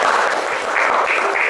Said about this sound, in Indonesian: Tepuk tangan buat kelompoknya Mbak Cusna.